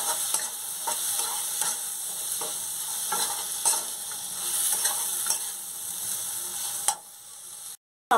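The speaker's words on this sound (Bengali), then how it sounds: "মশলাটা আমি একটু টমেটোর সঙ্গে কষে নেবো এইভাবে।" Spice powders (cumin, coriander, sambar masala) frying with tomato for a South Indian style brinjal curry, stirred with repeated scraping strokes over a steady close sizzle, ending abruptly.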